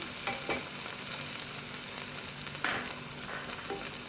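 Corn kernels and capsicum sauté in a hot pan with a steady sizzle, broken by a few louder stirring scrapes and pops, and no one talking.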